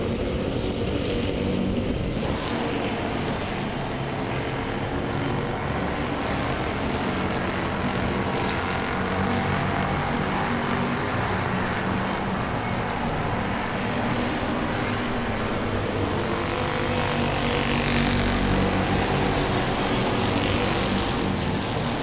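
Super Street race cars at Langley Speedway, one sliding sideways and burning its tires: a steady, loud, dense roar of engines lasting the whole stretch, with no voices over it.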